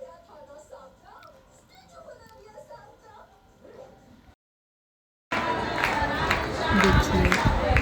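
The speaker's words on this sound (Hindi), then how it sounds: "यहाँ देखिए मैं आपको भीड़ दिखाती हूँ कितनी है। बहुत ज़्यादा भीड़ हो रही थी बाहर।" A large crowd of pilgrims gathers at the Radha Rani temple in Barsana, a dense outdoor murmur of many voices first heard at a distance, then, after a brief silence, loud and close with excited chatter and children's voices.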